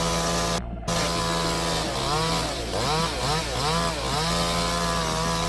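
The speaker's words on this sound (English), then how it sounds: "How long do you think it will take him to take down this giant monster with that giant chainsaw?" A giant chainsaw cuts into a huge tree, its engine running loud and close with a brief dropout, then revving in repeated rising and falling surges as it bites.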